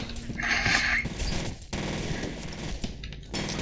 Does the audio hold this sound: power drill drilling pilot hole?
no